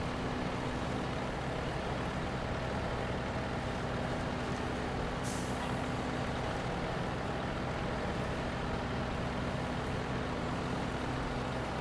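A truck engine in the off-road game SnowRunner rumbles steadily at low pitch throughout, loud and continuous, with a brief hiss near the middle.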